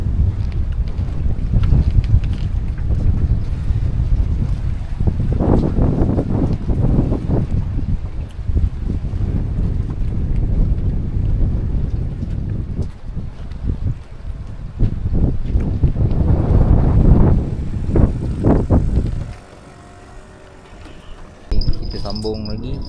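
Strong wind roars and buffets the microphone over choppy water on a fishing raft at Sungai Layang, Johor, in a rainstorm, a steady loud rumble with surging gusts, voices talking over it, easing briefly near the end.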